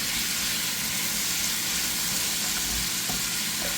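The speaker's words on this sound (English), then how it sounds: "I'm gonna add in some minced garlic, and stir that up" Minced garlic sizzles steadily in a hot pan, a loud, dense frying hiss with a few soft stirring scrapes, no voices.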